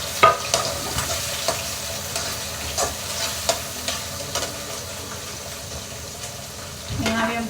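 Sliced onion sizzles steadily in a hot pan with cumin for a vegetable curry, with regular scraping stirs and soft clicks over the continuous frying hiss.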